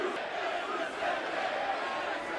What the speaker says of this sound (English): you can hear the capacity crowd here